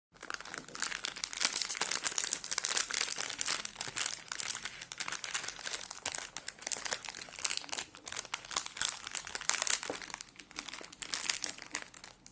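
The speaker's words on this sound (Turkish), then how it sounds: "Hemen paketi açalım isterseniz." A cookie package wrapper for salty mahlab biscuits being torn open, with dense, continuous close crinkling and crumpling of plastic film for several seconds.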